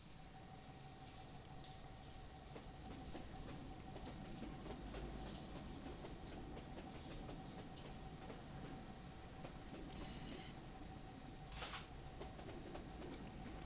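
A train rumbling along in the war game Foxhole, a low, steady rolling noise with faint clickety-clack and scattered clicks, fairly quiet and continuous with no talking.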